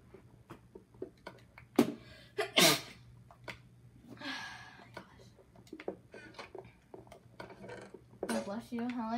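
A single sharp sneeze bursts out close to the mic, set among soft clinks of dishes and cutlery and quiet murmured voices in a room.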